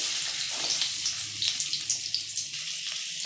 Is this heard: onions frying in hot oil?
yes